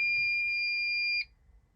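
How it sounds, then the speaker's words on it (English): A Mercedes-Benz instrument cluster warning buzzer, triggered by a diagnostic scan tool, sounds as one steady high electronic tone lasting a little over a second, then cuts off abruptly. It is clear and alone, with only faint low background noise. "actuate warning buzzer. The warning buzzer of the instrument is actuated for a period of 1 to 5 seconds."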